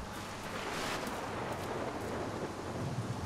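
Steady heavy rain with a low rumble of thunder during a storm in the video game Far Cry 6, a dense continuous wash with a brief swell near the start.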